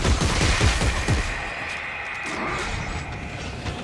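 Rapid weapon fire in Dead Space 3 cracks out in a quick burst of close shots during the first second, then gives way to a lower lingering rumble.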